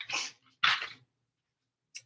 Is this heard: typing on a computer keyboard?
no